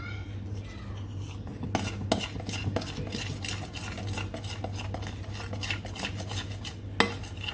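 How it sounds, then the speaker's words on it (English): A spoon stirring cake icing in a bowl, with repeated close clinks and scrapes against the bowl over a low steady hum, ending with a sharper knock. "So just to be sure there's no lumps in your icing, you can mix it with the spoon."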